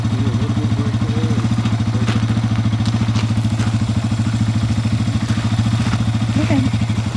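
A dirt bike engine idles and runs steadily, a close, even mechanical chug with a constant low hum and light rattle. It carries on without a break and no one speaks.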